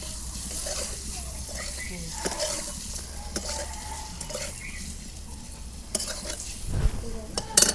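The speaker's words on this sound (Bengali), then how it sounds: "ডিমগুলো আমি ভাইজা নিছি ডিম ভাজা হয়েছে" Eggs frying in a pan, a close, steady sizzle with scattered clicks and stirring scrapes, ending in a couple of louder clatters.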